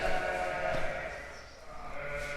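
Sheep in a shearing shed let out a sustained, fairly close bleat over a low background murmur.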